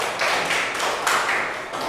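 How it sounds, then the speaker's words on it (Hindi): Students applauding in a classroom, a short burst of quick clapping that rises and falls over a couple of seconds, close and fairly loud. "वेरी गुड, ताली बजाइए बेटा।"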